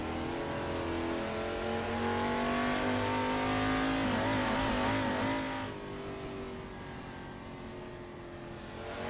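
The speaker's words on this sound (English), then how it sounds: "Interesting that sort of warble as your high rev on downshifts" A car engine in the Assetto Corsa racing game revs high and warbles through downshifts, the pitch sweeping and wavering before the engine note drops and settles lower for the final seconds, with no talking.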